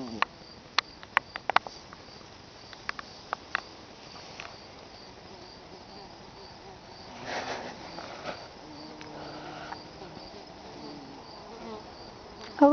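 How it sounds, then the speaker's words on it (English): Honeybees and bumblebees buzzing among autumn flowers, a faint, wavering drone that swells briefly midway, with scattered soft clicks and rustles in the background. "Oh look, we have another honeybee."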